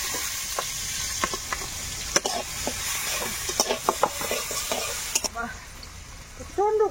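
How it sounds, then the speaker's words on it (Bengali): Chopped onions fry in hot oil with a steady sizzle, punctuated by sharp clinks and scrapes of a spatula stirring against the pan, close up, with a brief voice near the end. "তেলের মধ্যে এখন পেঁয়াজ কুচি দিলাম।"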